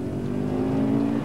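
A Subaru Impreza 22B engine drones loudly and steadily from inside the car as it accelerates hard during a road test, a short continuous burst with no speech.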